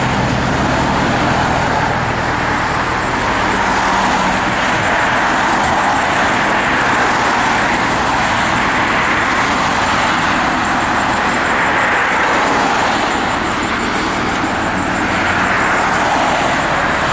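A 2011 Chevrolet Camaro Callaway SC572 runs with its engine producing a loud, steady, broadband roar that holds without a break, heavy and close, with no talking.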